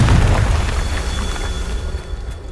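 A Confringo fire spell bursts in Hogwarts Legacy with a deep, booming explosion at the start that rolls off into a fading rumble over a couple of seconds.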